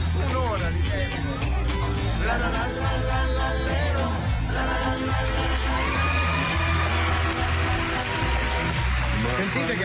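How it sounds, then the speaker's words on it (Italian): A radio studio audience in a live broadcast cheers, whoops and applauds loudly after a song, the clapping mixed with excited crowd voices and shouts throughout. "Sentite che applauso, incredibile"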